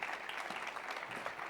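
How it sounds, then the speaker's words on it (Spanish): Audience applause at a conference, a steady patter of many hands clapping, faint and distant throughout. "Un aplauso para ellas"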